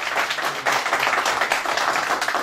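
Applause from a breakfast gathering audience honoring an association president, a steady dense patter of many hands clapping throughout, fairly loud and continuous with no gaps.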